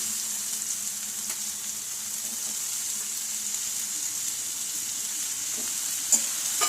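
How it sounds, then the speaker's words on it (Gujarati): Sliced onions, five or six of them, sautéing in a pan with green chillies and turmeric, giving a steady, soft sizzle that holds evenly throughout with a couple of faint clicks near the end. "હવે એને 5-7 મિનિટ સુધી સરસ બ્રાઉન કલરની થાય ત્યાં સુધી સાતળી લઈશું"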